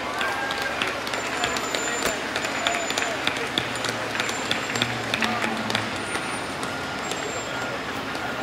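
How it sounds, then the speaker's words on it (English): A crowd applauding at a fire station dedication, scattered claps mixed with a running truck engine and people talking nearby. "How about a round of applause?"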